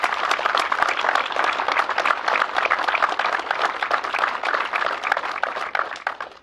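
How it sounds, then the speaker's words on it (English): An audience at a Court of Honor ceremony claps steadily and fairly loudly for the honorees, a dense patter of many hands continuing throughout before tapering at the end. "Please join me in one more round of applause for our honorees today."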